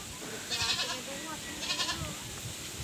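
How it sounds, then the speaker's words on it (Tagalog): Farm goats bleat twice in quick wavering calls close by, over a low background rustle. "Ito yung mga kambing natin"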